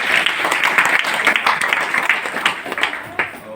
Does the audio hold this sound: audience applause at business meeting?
yes